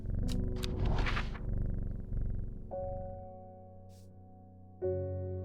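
Cat purring in the video game Strange Horticulture: a close, low, rumbling purr in rhythmic pulses, joined by soft game music tones and a few brief clicks.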